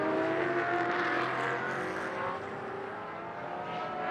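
A GT race car in Blancpain Sprint Series practice at Moscow accelerates out of a right-hand corner on a feathered throttle, its engine a loud, continuous harmonic roar that swells and eases slightly as the power comes on.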